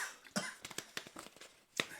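Several short, sharp coughs burst out in quick succession at close range, with one louder cough near the end.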